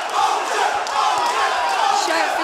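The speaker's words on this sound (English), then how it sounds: "The crowd behind me is going crazy." A live kickboxing fight crowd roars and cheers continuously at an Enfusion event, a dense, loud wall of shouting voices with no pauses.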